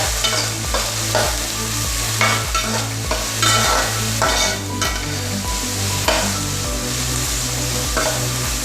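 Chopped onions frying for a chicken curry, loud steady sizzling with a rhythmic, repeated scrape of a spoon stirring through the pan roughly every second, close and continuous with no voices.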